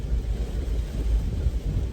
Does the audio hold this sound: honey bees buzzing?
no